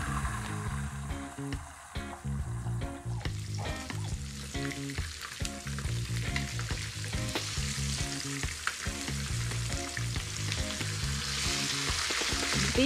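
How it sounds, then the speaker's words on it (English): Red snapper frying in oil with fresh thyme and garlic, a strong close sizzle that runs steadily for many seconds with crackling bursts and a loud rise at the end, alone without speech. "I'm going to fry these on both sides until they are nice and golden"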